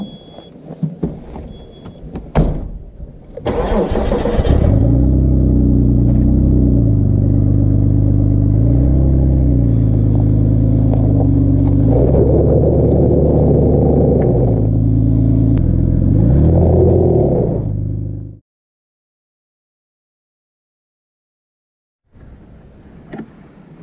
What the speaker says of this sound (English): I'm going to try to drive up this off camber hill. Just keep an eye on the rear two tires.